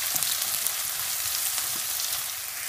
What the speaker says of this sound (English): To this I'm going to add my garlic and my onion. I just want to soften these and release those flavours.